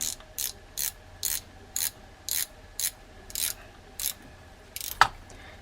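Drag button on a Daiwa Emblem Z 4000 spinning reel being tightened, about eleven evenly spaced ratcheting clicks with a sharper metallic tick near the end, close and quiet.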